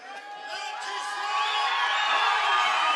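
A Sheffield kickboxing crowd cheering for a home fighter, a loud sustained roar of shouts and whoops that swells steadily and stays high to the end.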